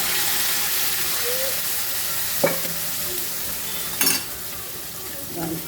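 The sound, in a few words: sizzling tempering of dal (lentils) with leafy greens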